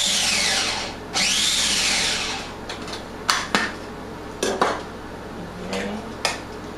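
Knife chopping an apple into small chunks on a cutting board: a few scraping strokes, then a run of sharp, irregular taps close by, with no talking.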